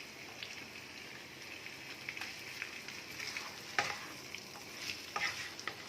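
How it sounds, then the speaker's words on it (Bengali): Curry leaves going into a sizzling chicken curry with coconut milk on a low gas flame, followed by stirring: a faint, steady sizzle with scattered light clicks and scrapes from the spoon, no voices. "অল্প একটু কারি পাতা দিয়ে দিচ্ছি ওপর থেকে"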